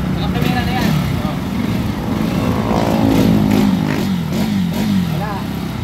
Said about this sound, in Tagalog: Ganda-ganda ng motor, ayaw tumakbo.